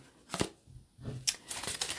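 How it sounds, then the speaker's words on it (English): A deck of tarot cards being shuffled by hand, a few short papery riffles and slaps in separate bursts, close and fairly quiet, with no speech. "let's give it a bit of a shuffle, even though I always pre-shuffle"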